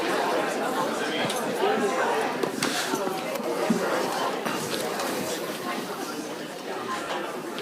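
A packed full-house audience at the Concord Museum murmuring before an evening talk, many overlapping voices forming a dense, steady hubbub that fills the room without any single clear speaker.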